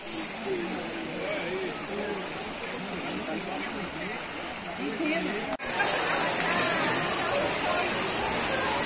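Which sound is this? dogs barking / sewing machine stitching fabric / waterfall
waterfall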